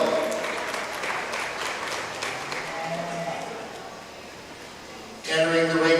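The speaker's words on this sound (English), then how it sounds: "Let's give Justin a round of applause and a warm Saunders County welcome." An audience at a Saunders County Fair 4-H beef show gives the judge a round of applause, moderate clapping in a large space that fades gradually, before a voice starts over a loudspeaker near the end.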